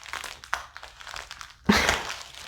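Plastic bag packaging sealed with stubborn glue is pulled and twisted, giving close, scattered crinkles and crunches and then one louder tearing burst near the end, with no talking.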